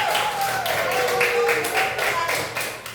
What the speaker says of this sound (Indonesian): Kita kasih tepuk tangan buat kelompok 1.